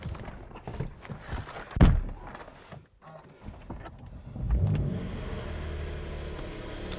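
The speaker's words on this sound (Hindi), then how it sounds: "चलो दोस्तों एक बार जरा गाड़ी को कोल्ड स्टार्ट कर देते" A car parked at a house being cold started: door thunks and clicks, a sharp crank, then the engine catches and settles into a steady idle.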